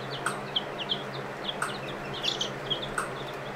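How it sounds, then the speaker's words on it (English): Sussex hens and Delaware roosters on a homestead, soft scattered clucks and short chirps at moderate distance over steady outdoor background noise. "We've got Sussex hens. Those are the brown and kind of black striped birds. And we have Delaware roosters."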